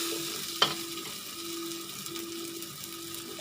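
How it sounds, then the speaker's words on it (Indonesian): Chili spice paste for sambal, seasoned with salt, fries in a pan with a steady close sizzle, a sharp scrape or clatter early on, and faint stirring throughout. "ketika kalian menggoreng bumbunya seperti ini, terutama cabai, itu harus dimasukkan garamnya"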